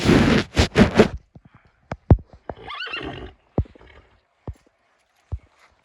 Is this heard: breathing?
no